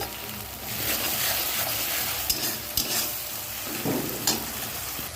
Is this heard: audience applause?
no